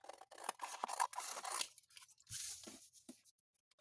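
Scissors snipping through junk-mail paper board, a run of close, quiet crisp cuts and rustling slices with short gaps between strokes.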